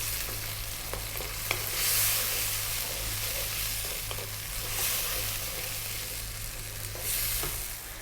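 Tomatoes cooking down in a pan for chicken curry, a steady moderate sizzle and hiss with periodic stirring scrapes and a low background hum, no voices.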